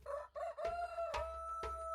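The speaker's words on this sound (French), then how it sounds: "un grand coq qui galopait en chantant" A rooster crows loudly and clearly with a rising, drawn-out cock-a-doodle-doo and a few sharp accented bursts, heard alone with no talk.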